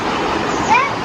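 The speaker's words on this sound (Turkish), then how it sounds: "Şu su sesi huzur veriyor insana." Steady rushing water fills the scene, a constant broadband wash with a faint tonal whistle briefly rising above it.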